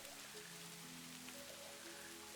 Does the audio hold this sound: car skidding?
no